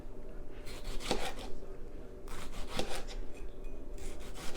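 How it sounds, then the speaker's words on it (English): A Cutco kitchen knife cuts through food in a home kitchen: a few rasping, scraping strokes, close and moderately loud, with short pauses between them. "Using the old Cutco knife here."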